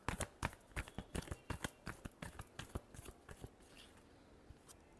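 Tarot cards shuffled by hand close up, with a quick run of crisp, papery riffles and slaps that taper into softer rustling toward the end.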